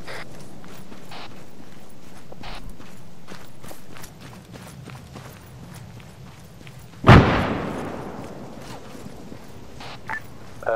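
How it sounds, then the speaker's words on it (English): A thrown grenade goes off in the military shooter Blackforge Operations, one sharp loud blast with a rumbling decay after a stretch of footsteps and quiet combat movement. "Throwing grenade."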